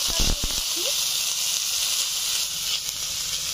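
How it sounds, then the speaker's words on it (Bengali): Dried red chillies and mustard seeds sizzle in hot mustard oil, a steady loud hiss lasting throughout, with a few sharp crackles near the start. "তেল গরম হয়ে গেছে, দিয়ে দিচ্ছি 2টো শুকনো লঙ্কা, দিয়ে দিচ্ছি 1/2 চামচ সরিষা"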